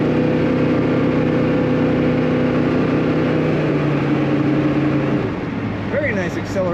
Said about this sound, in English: Very nice acceleration.